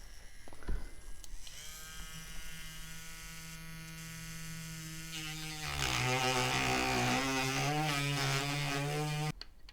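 An electric power tool polishing guitar frets whines with a steady buzzing tone, rising in pitch and growing harsher and louder partway through before cutting off abruptly near the end, close and alone.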